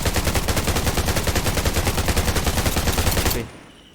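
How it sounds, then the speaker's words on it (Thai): An invisible gun in the mobile shooter Undawn fires a loud, rapid automatic burst of evenly spaced shots for over three seconds, then cuts off abruptly into near silence. "มันก็ยิงเหมือนเดิมนะแต่ก็มันจะแปลกตรงที่แบบว่าเราไม่เห็นปืนนี่แหละ"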